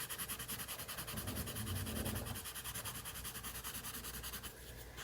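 Graphite being blended with a freshly sanded paper blending stump, a close, quiet, continuous rhythmic scratching and rubbing of the stump working back and forth across paper.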